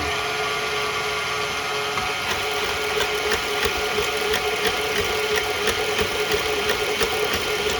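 Electric stand mixer beating strawberry meringue pie filling in a bowl, a steady close motor whir with faint rhythmic clicking that carries on unbroken throughout.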